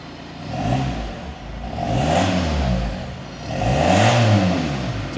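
A Volkswagen Scirocco TDI diesel with a straight-through JAP can style exhaust revs up twice, each rise and fall close and moderately loud, with engine clatter under the exhaust note.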